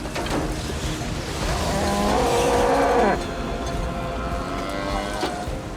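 A cow moos in the Path of Exile video game, a long drawn-out low call rising over game noise and rumbling effects, then fading back into the busy background.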